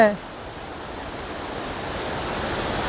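Pantamanu waterfall near Goppugodisela pours in a steady, broadband roar of rushing water, continuous and fairly close, with a brief higher tone at the very start before the even wash takes over.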